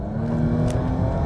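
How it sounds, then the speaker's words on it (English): A Jaguar F-Pace with a 3-litre supercharged V6 at full throttle gives a loud, steady engine roar with a strong low hum heard from inside the car, with no talking. "This is the top of the range 3-liter V6 Supercharged. That, on full tap like this,"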